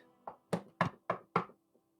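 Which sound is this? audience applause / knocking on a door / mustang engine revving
knocking on a door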